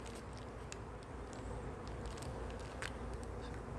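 Honey bees buzzing around their hives outdoors on a windy day, a faint, steady droning hum beneath wind rumble, with occasional brief nearby buzzes.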